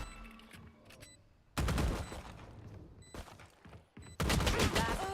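Gunfire in the tactical shooter Valorant during a South Asia Challengers esports match comes as sharp bursts of rapid shots separated by quieter gaps, with loud volleys close by and faint background game sounds in between.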